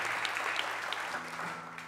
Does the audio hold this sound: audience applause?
yes